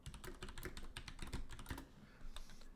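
Close, quick keyboard typing heard alone during an esports tournament broadcast, a fast run of crisp key clicks that thins into a few scattered taps near the end.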